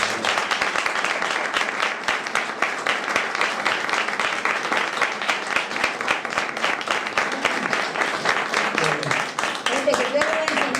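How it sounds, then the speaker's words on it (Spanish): Audience applause fills a hall after a religious talk, steady dense clapping from many hands throughout, fairly loud and close, with a few voices emerging near the end. "Y un aplauso por lo menos."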